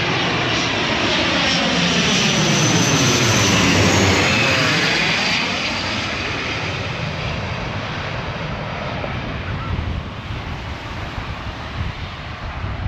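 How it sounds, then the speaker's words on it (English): A jet airplane roars overhead, loud and steady, its pitch sweeping downward as it passes and then fading slowly into a continuous rumble. "And now look at the airplane."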